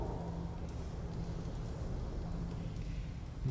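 A snowstorm in the survival game The Long Dark makes a steady, low rushing roar of wind, with a constant dull hiss that stays even and unbroken throughout.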